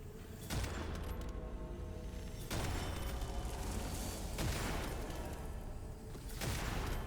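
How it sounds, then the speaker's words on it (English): Gunfire and homing missile blasts in the dark fantasy shooter Witchfire, a dense continuous barrage with heavy booming bursts at regular intervals, loud and close throughout. "Okay, bullets, bullets, bullets, bullets."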